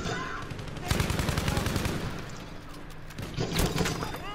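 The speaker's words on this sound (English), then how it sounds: "Who the fuck's shooting the place with the tank?" Battlefield V battle noise with a loud tank cannon shot striking nearby, followed by rattling gunfire and a second heavy report, all fairly close and harsh.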